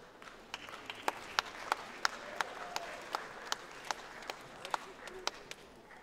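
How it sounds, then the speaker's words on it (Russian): Sparse, uneven clapping from part of a festival audience, a dozen or so distinct claps spaced through the stretch in a quiet hall, with a voice speaking faintly underneath. "Только половина зала запомнила, что надо хлопать."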